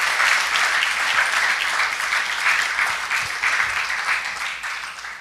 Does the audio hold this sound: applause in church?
yes